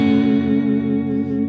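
Electric guitar playing a sustained chord on a clean tone with heavy reverb and slight distortion, ringing steadily and close for about a second and a half with no voices.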